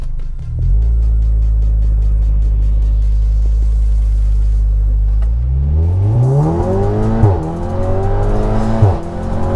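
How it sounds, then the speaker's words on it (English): A Stage 2 tuned turbocharged Volkswagen Golf R idles loudly, then launches and accelerates through several rising gear pulls, heard with windows cracked, a loud, close roar with whine building on top. "Try launch with the windows cracked, see what that sounds like."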